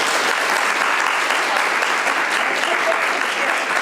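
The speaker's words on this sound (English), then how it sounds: "please join me in welcoming Dr. Anderer to the stand with a round of applause" Audience applause greeting a speaker at a talk on launching adult life, a dense, steady wash of many hands clapping at close range that holds at full loudness throughout, with no voices over it.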